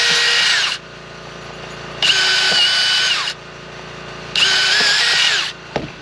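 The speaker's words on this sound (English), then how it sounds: "I'm going to use my drill bit and drill the holes for the foaming clip." A power drill bores holes for a holster clip in three loud, whining bursts separated by short pauses, close and with no talk.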